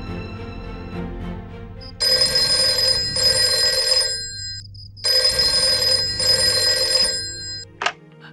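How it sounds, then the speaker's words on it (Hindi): A telephone rings in two long electronic bursts with a pause between them, loud and close, over a low background hum and ending with a brief click. "ललिता, तुम इतनी रात को कैसे फोन किया?"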